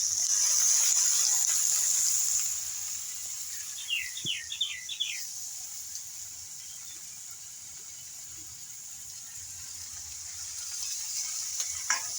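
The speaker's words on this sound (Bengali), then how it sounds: "শাপলাগুলো পেঁয়াজের সঙ্গে একটু ভেজে নেব" A steady sizzle of water lily stems frying with onion fills the clip, loudest at the start, with a few faint bird chirps in the background.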